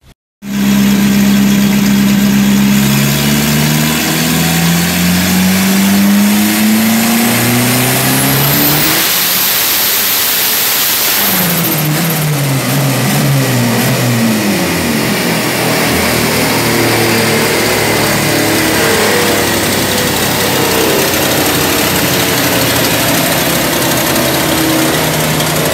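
A car engine cranks, catches and revs hard for over twenty seconds, loud and close, with rising and falling rev sweeps and a steady rough idle between them; no talking.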